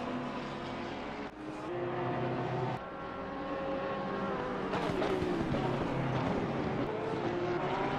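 Porsche race car engine in the racing game Assetto Corsa Competizione at Monza, with a continuous loud high-revving drone whose pitch climbs and drops through gear changes and other cars roaring nearby.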